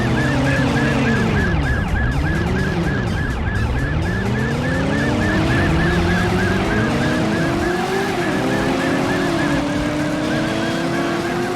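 Several police car sirens wail together in the Driver PlayStation video game. The overlapping rising and falling tones sound over a constant engine drone and carry on loudly throughout.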